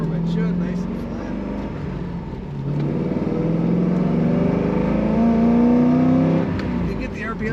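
A bright red 2003 Chevrolet Corvette Z06 coupe accelerating, its engine droning loudly from inside the cabin and rising in pitch as revs climb past four thousand, with someone talking over it.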